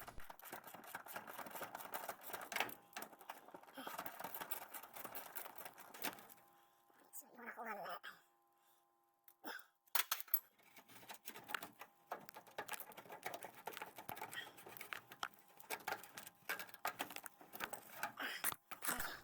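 Rapid clicking of a 12mm socket ratchet working a rusted gas tank strap bolt loose on a 2003 Toyota RAV4, bursts of fast ratcheting broken by pauses, with a short stretch of someone talking in the middle.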